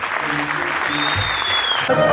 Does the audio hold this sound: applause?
yes